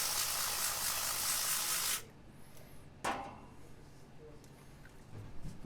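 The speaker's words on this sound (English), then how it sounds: "there's some contact spray just to dissolve the oil. Put it onto a microfiber cloth." A sustained aerosol spray of contact cleaner hisses onto a microfiber cloth for about two seconds, followed by a brief second spritz and faint rubbing sounds.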